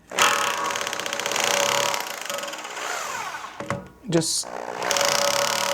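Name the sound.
SDS drill in hammer mode agitating radiator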